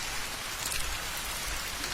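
Steady rain pours onto a road, a dense continuous hiss with no voices or traffic, loud and close throughout.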